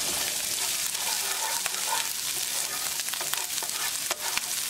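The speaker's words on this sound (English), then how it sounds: "Add garlic. Add ginger. Mix it well and cook them for like 10 seconds" Garlic and ginger fry in a pan while being stirred, giving a steady, close sizzle with scraping and clicks from the stirring. No one speaks.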